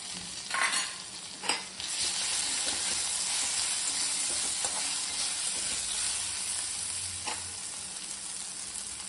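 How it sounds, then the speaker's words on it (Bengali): Ginger paste frying in a pan, a steady close sizzle with a few sharp bursts and stirring scrapes near the start, continuous and fairly quiet. "এক চামচ আমি আদা বাটা দিয়ে দিচ্ছি।"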